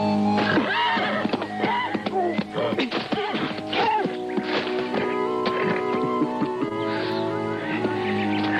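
A horse neighs in a film scene with a loud, shrill, wavering whinny that rises and falls over several seconds, set within a dense, continuous soundtrack.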